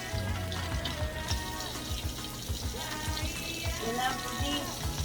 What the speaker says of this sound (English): We're going to wash just with water